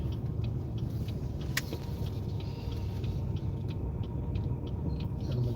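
Steady low road rumble inside a car moving slowly through an uncontrolled intersection during a driving lesson, with faint clicks over a continuous engine and tire drone.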